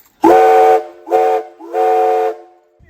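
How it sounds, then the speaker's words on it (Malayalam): A steam whistle at the Walhalla gold mine in Australia gives three loud, close blasts: a long one, a short one and another long one, each a rich, hooting tone over a breathy hiss, with pauses between. "അങ്ങനെ നമ്മുടെ വിസിൽ ഇപ്പോൾ തന്നെ അടിക്കാൻ പോവുകയാണ്."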